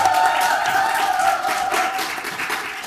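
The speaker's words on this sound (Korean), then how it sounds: "박수 한번 좀 보내주세요." An audience applauds steadily at an orientation gathering, a dense, even wash of clapping hands sustained for a few seconds without pause, with no talk over it.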